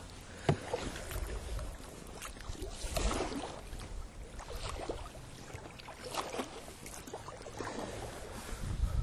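A coracle being paddled across quarry water, with soft repeated splashes and strokes at an uneven rhythm close by, plus light wind buffeting on the microphone.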